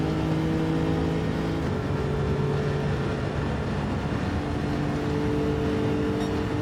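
A race car held flat out along Conrod Straight at Mount Panorama in a racing video game, a steady, loud engine drone with a sustained high whine and no speech.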